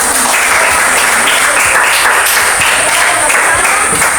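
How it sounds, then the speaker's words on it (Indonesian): Classroom applause after a civics (PPKn) group presentation, loud, close, continuous clapping from a room of students lasting the whole stretch. "Bisa berikan tepuk tangan."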